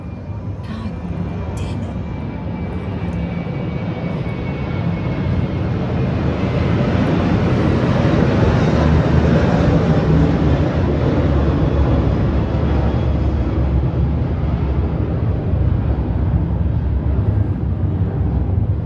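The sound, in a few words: airplane flying overhead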